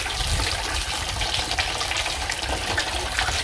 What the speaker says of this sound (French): Là ça coule bien, ça coule propre.